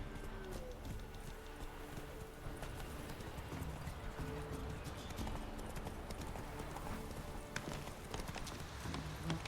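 The horse Roach gallops in The Witcher 3, a fast, even clip-clop of hooves with faint game ambience behind it and low talk now and then.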